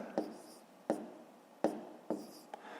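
A pen writes an answer by hand on paper, giving four or five short scratchy strokes at a roughly even rhythm, close and fairly quiet with no talk.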